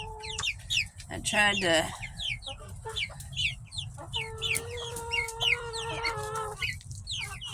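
Farm chickens, including a hen and young birds, cluck and chatter close by in a busy, overlapping flurry of calls, with a brief squawk and a few words spoken underneath.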